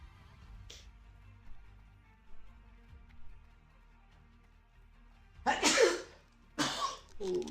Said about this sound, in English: Oh, massive sneeze.